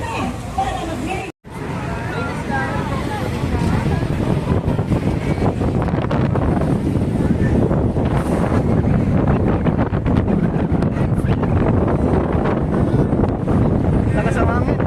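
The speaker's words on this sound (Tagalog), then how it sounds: "Lakas ang hangin, grabe." Strong wind at an outdoor protest rally buffets the microphone with a loud, continuous roar that barely drops out, mixed with crowd babble and nearby voices talking.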